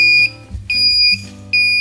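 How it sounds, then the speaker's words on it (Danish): A bedwetting alarm device beeping loudly, three sharp high electronic tones in a row, each about half a second, with brief gaps and low background hum between them. "Apparatet bipper højlydt, barnet vågner"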